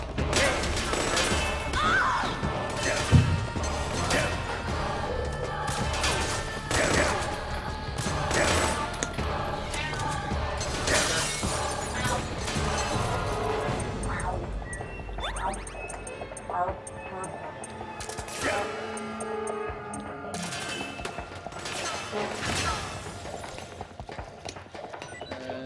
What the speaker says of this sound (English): Shooting. A lot.